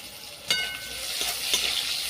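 Chopped onion hitting hot mustard oil with a few sharp sizzling bursts, then a steady hiss of frying that carries on close by in a pan.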